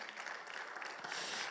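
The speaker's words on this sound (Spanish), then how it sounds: "Un fuerte aplauso, Señor," Faint, distant applause from a congregation at a Bible seminar, a brief steady patter of many hands clapping together.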